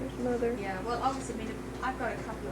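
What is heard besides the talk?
No everyday noise stands out behind the speech.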